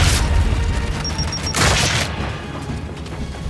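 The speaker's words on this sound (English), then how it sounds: "Throwing grenade! Throwing frag!" A frag grenade blast in Gears of War 5: a heavy, booming low rumble with a debris-like roar that surges and then slowly fades, loud and close.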